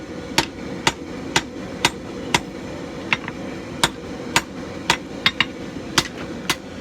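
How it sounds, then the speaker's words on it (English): A hammer forges the point of a kukri knife blade, sharp metallic strikes landing in a steady rhythm about twice a second, close and distinct over a low background hum. "we'll just finish forging out that point"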